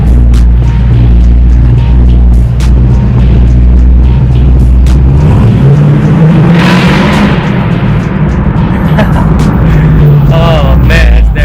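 A loud Ford Foxbody Mustang with a 5.0 V8 accelerates hard, its engine roaring and rising steadily in pitch through a long, full-throttle pull, close and overwhelming, with a voice briefly audible under the noise.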